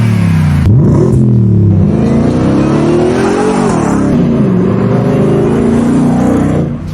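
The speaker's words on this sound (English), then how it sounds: "Right behind me is the Ford F-150 Raptor R" A Ford F-150 Raptor R with a supercharged 700-horsepower V8 roars loud and close, the engine note climbing and falling through several hard revs in a sustained, rumbling run with no speech.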